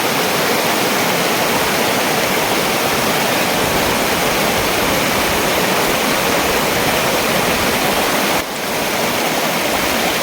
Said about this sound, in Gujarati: એક પહાડના દોરા ઉપરથી પાણી જઈ રહ્યું છે